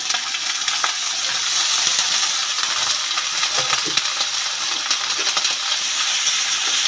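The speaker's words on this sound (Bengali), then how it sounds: "আলু আর ফুলকপিগুলো ভালো করে নেড়ে নেব" Cauliflower florets and cut potatoes stirred in hot oil in a pan, a steady close sizzle with scraping and clinking of the spatula throughout, no voices.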